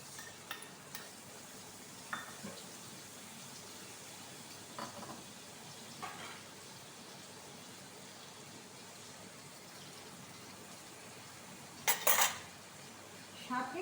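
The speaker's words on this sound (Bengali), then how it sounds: "এই যে কড়াইয়ে এবার আমি এই মশলাটা দিয়ে দিই" A spice paste sizzles steadily in a kadai, with scattered clinks from a stirring utensil and a louder burst of metal clatter near the end.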